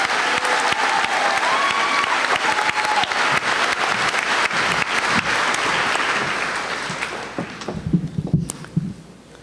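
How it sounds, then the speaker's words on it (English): A large audience at a high school commencement applauds graduating students, a loud dense burst of clapping that holds steady and then thins out toward the end. "Let's give them a round of applause"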